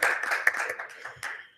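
Audience applause at a community panel session on newcomer stories, a short, fairly faint patter of clapping hands that fades out after about a second and a half.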